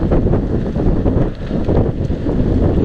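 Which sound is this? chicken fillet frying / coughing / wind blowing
wind blowing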